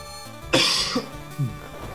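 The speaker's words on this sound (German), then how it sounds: "Leute, dieser Husten tut mir leid." One sharp, forceful cough bursts out close to the microphone, followed by two softer throat-clearing hacks in the quiet room.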